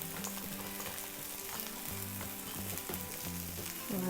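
Wild mushrooms and onion sizzle in a hot pan for a buckwheat dish, a constant close crackle broken by scraping stirs, fairly quiet overall with no voices.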